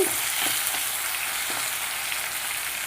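Vegetables for stuffed brinjal curry sizzle steadily in a pan as they are stirred, with soft scraping strokes scattered through a continuous, moderate frying hiss and no talk.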